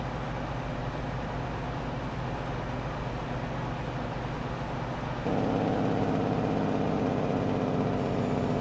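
Truck engine in Farming Simulator 22 runs steadily at close range as the vehicle is driven, a continuous droning hum that steps up louder and brighter about two thirds through, with no talk over it.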